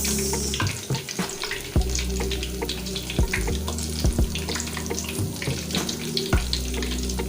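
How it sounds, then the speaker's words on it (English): Akara bean fritters frying in oil, giving a continuous bubbling, watery sizzle close by with occasional soft knocks and pops throughout, no voices. "just want to fry till the sides are golden brown"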